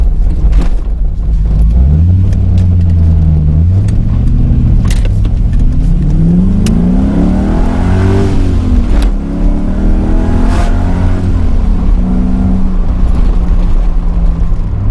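A TVR sports car engine rumbles and revs steadily up and down while driving away from a car show, with bumps and jolts from an uneven road surface throughout.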